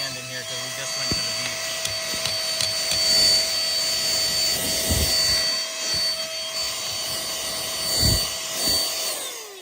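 A Scstartx mini vacuum cleaner sucks up beach sand from a crack, a steady high-pitched motor whine with gritty rattling bursts as debris is drawn in, close to the microphone.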